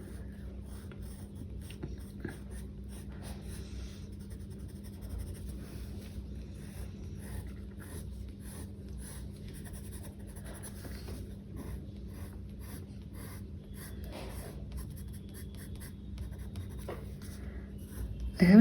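Color pencil strokes on 200 gsm Anupam Ultra artist sketchbook paper while drawing flowers, a soft continuous scratching with light rhythmic strokes, close and quiet over faint background hiss.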